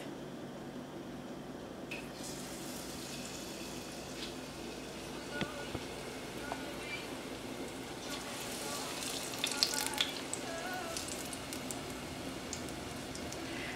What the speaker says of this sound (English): we're just gonna drop it in the grease